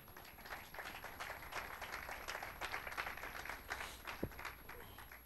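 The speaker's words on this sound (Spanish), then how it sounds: "Denle un aplauso fuerte al Señor." Steady applause from a church congregation, a dense wash of clapping that holds evenly throughout with no voices over it.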